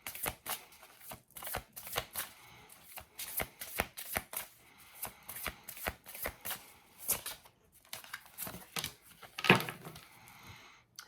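A deck of cards is shuffled repeatedly at close range, giving a fast run of crisp riffles and snaps that pauses briefly and then resumes, with no talk.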